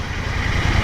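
A motorcycle engine running close by at a steady idle, a continuous buzzing putter with no pauses and no speech.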